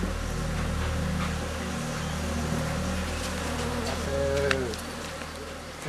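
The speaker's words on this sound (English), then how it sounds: "A buzzing noise fills the air. It's made by the thousands of flies and bees in the forest." Dense buzzing of countless flies and bees fills the Gabon forest air, a steady close hum layered over low rumbling, with faint talk mixed in.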